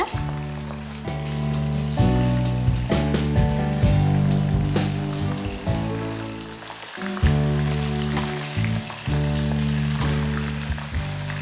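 Prawns fry on a low flame for prawn lollipops, a soft steady sizzle with occasional stirring, partly under background music.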